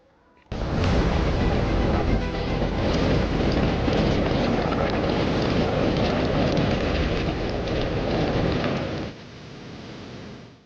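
Heavy rain from Cyclone Ditwah lashing Sri Lanka, a loud, dense and steady roar that starts abruptly and continues unbroken for about eight seconds before dropping to a softer downpour.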